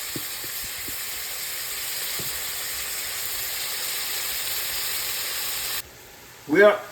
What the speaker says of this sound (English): We put the meat in the fry pan and we put salt and pepper.